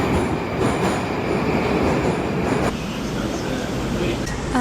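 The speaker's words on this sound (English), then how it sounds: "here you can see the new trains that were implemented, I think, several years ago" A new Moscow metro train rumbles steadily along the track, a loud continuous roar of wheels and motors with faint squealing, close and unbroken throughout.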